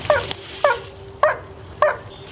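A dog gives four evenly spaced short yelping barks with a whimpering, whiny edge, close and clear, each about half a second apart.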